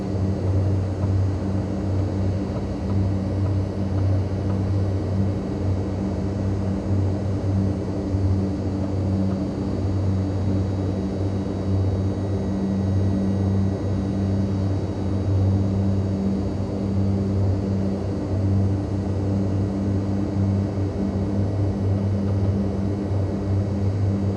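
Steady, loud drone of a Short Skyvan's twin propeller engines in Microsoft Flight Simulator 2020, holding a constant hum as the throttle is pulled back, with no talking.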